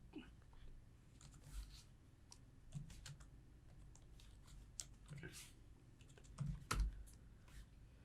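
Quiet, irregular clicks of typing on a computer keyboard come in short bursts with pauses, close but faint, while a voice speaks softly now and then.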